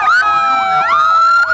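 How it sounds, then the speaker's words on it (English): Loud wailing police sirens, several overlapping, sweep up and down in pitch close by at a Christmas parade in Dexter, dominating everything else. "I don't know if you can hear me over these sirens"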